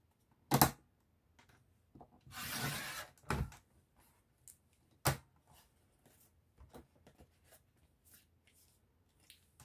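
Paper trimmer slicing the edges of a cross-stitch themed craft folio, with a longer swishing cut near the start, a few sharp clacks of the blade and lighter handling taps in a quiet room.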